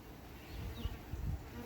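Bees swarm around a hive on a hot summer day, a dense, steady low buzz close by with a few individual insects droning past, no voices.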